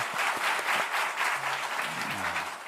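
A church congregation claps together during a special early-morning revival service, a dense, even patter of many hands filling the room for a few seconds.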